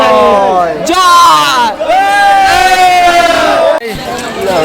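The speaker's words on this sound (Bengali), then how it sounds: "ভাই কল্যাণীর স্টেশনে ভিড়টা শুধু একবার দেখো" A packed crowd at Kalyani railway station during the festival rush raises loud, sustained shouts and chants close by, a dense roar of voices that rises and falls with brief dips.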